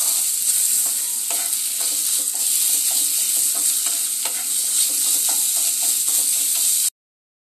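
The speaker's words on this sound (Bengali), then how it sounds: "এবার চিকেনটা দিয়ে খুব ভালো করে কষাবো।" Minced chicken stir-fried in a pan, a steady loud sizzle with repeated scraping strokes of a spatula stirring throughout, close and continuous with no talking.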